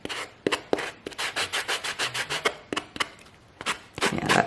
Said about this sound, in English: grab our sanding block and finish off the paper side